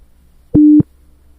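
A single pure 700 Hz test tone from a sampling and aliasing demonstration sounds loudly for about a quarter second, starting and stopping with clicks against near silence.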